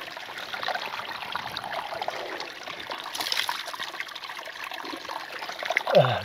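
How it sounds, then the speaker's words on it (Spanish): Clear stream water splashing and trickling steadily over rocks along a mountain trail, a close, continuous wash of running water that swells briefly near the end, with no talking. "Una refrescadita con agua cristalina para llegar más frescos"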